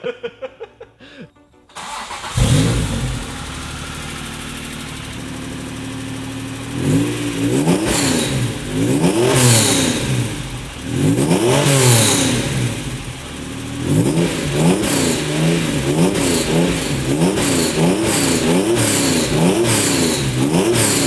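A Honda NSX with a cat-back exhaust and muffler starts up, then idles loudly and is revved in several rising and falling bursts, close and dominant, with possible faint talk in the background.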